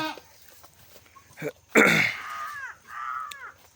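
Goats bleat a few times close by on a small goat farm, short wavering cries with a louder one in the middle, amid quiet background noise.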